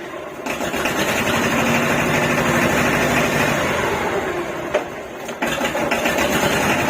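Hinomoto E18 tractor engine running steadily at close range, a loud continuous mechanical drone with a couple of brief clunks as gears are shifted.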